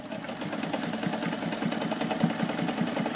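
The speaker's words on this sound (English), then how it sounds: "I'm going to go ahead and zigzag this seam right here" An American Home sewing machine runs a zigzag seam, its needle chattering in a fast, even rhythm of clicks over a low motor hum, close and steady for a few seconds with no talk.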